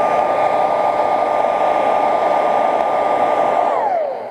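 Heat gun blowing hot air to set paint on a pink fishing lure, a loud steady whine and rushing airflow that holds constant before dropping in pitch as it powers down at the end.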